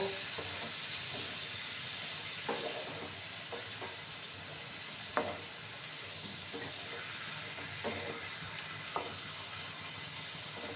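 Spice paste cooks with cumin powder and a splash of water for a Bengali shing fish curry, giving a low continuous sizzle broken by occasional scrapes and taps of a spoon in the pan.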